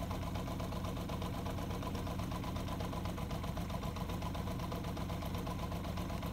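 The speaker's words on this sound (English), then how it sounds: "So I'm going to start the bike up" A 1980 Honda CB750F DOHC motorcycle engine idles steadily and close by, a continuous mechanical hum with a fast, even ticking pulse and no talking over it.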